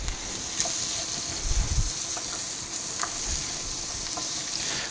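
Onions sautéing in hot butter in a pan, a steady close sizzle with a few soft stirring scrapes and bumps.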